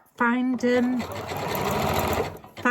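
A sewing machine runs in a short, close burst as it stitches elastic into Lycra. A voice talks just before the stitching starts and again as it ends.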